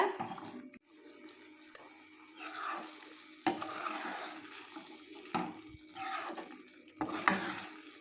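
Drumstick curry (murungakkai) cooking in oil in a pan, with soft bubbling and sizzling, occasional louder stirring scrapes and splashes, close and fairly quiet, with no talking.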